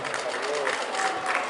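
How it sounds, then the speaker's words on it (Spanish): An outdoor crowd at a Spanish-language event applauds briefly, a dense burst of clapping with a voice speaking over it. "un fuerte aplauso para el Rudo, para recibirlo"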